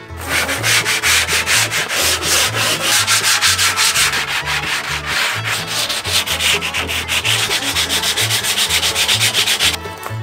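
Wood being sanded before painting gives a loud, close, rhythmic scratching of repeated back-and-forth strokes that runs steadily throughout, with no voices.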